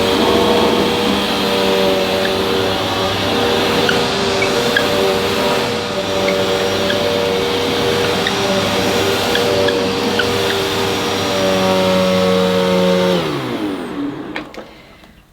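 A Hoover Breeze Evo vacuum cleaner runs steadily on carpet with a loud, continuous motor whine and airflow roar, then winds down and cuts off near the end.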